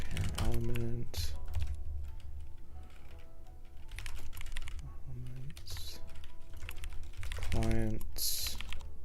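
Steady typing on a computer keyboard during game engine coding in TypeScript, fast clattering keystrokes close to the mic with brief pauses, low background hum, and a voice talking intermittently over it.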